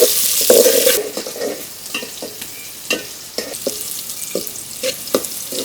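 Chopped onions and green chillies frying in oil with cinnamon, cardamom and bay leaf for a pigeon meat curry, giving a crackling sizzle broken by frequent clacks of a spatula against the pan, close, with no voices.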